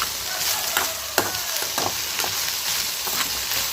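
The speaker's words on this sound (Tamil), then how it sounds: "இப்போ வெண்டைக்காயை நல்லா கிண்டி வச்சுக்கலாம்" Salted okra for a stir-fried poriyal sizzles steadily in a pan, broken by repeated scraping and clinking strokes of a spatula as it is stirred, close and loud.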